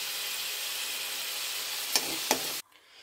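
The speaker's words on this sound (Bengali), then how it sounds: "আলুগুলো এই যে লাল লাল করে পুরো ভাজা হয়ে গেছে" Potatoes deep-frying in hot oil until reddish give a steady, close, bright sizzle, broken by two quick scraping stirs before the sound cuts off abruptly.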